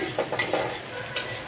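Onions frying in a pan are stirred with a utensil, a soft sizzle under a few distinct scraping strokes against the pan at irregular intervals, close and fairly quiet.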